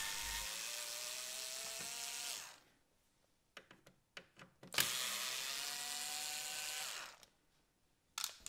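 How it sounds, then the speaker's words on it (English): Screws being removed from the front panel of a Philips DCC730 digital compact cassette deck, heard as a steady whirring of a driver followed by several short sharp clicks and ticks, then a second whirring run and a final click, with no talk. "We remove two screws on the top and three on the bottom to loosen the front panel."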